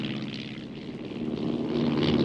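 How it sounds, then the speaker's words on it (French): Steady droning hum of a propeller aircraft on a long patrol over the Atlantic Ocean, a continuous engine roar that swells slightly louder toward the end. "les avions qui patrouillent pendant des heures et des heures sur l'océan"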